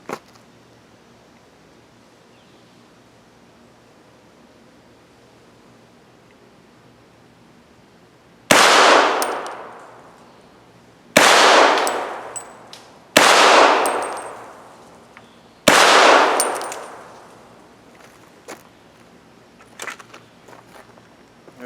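Four loud suppressed 300 Blackout subsonic cast-bullet gunshots spaced a few seconds apart outdoors, each a sharp crack with a ringing clang and decaying tail, after a quiet stretch.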